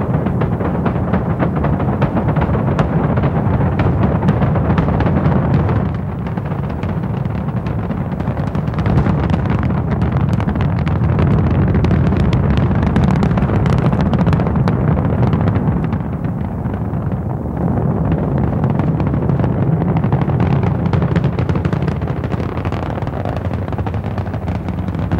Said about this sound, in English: Liftoff. We have liftoff at 11 a.m.